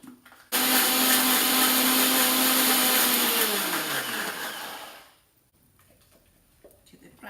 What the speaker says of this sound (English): I'm going to do the grinding now. Put this in the blender.